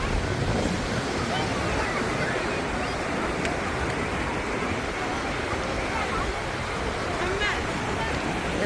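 Sea waves wash onto the beach at Port Said on a summer evening, a steady broad surf roar mixed with wind buffeting the microphone, with distant crowd babble and voices in the background.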